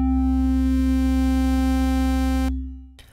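A synth lead patch with a sawtooth oscillator at reduced volume and slow amplitude attack holds one steady buzzy note that cuts off sharply, leaving a brief low tail before a faint click.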